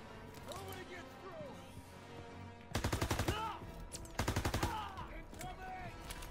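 Two bursts of rapid machine gun fire from a mounted MG in Call of Duty WW2's D-Day campaign, loud rattling volleys between stretches of battle ambience, with soldiers shouting in the game.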